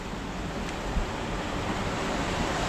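Steady roaring wind with a wash of water, continuous and loud, with a small knock partway through, as strong night gusts rock a boat at sea.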